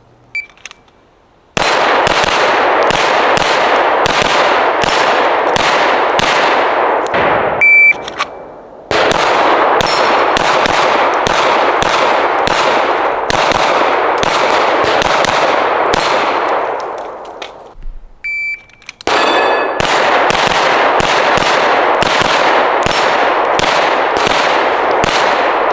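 Rapid strings of gunshots ringing off small steel swinger targets on a USPSA practical shooting course, loud sharp cracks with metallic clangs, fired in three long bursts separated by brief pauses.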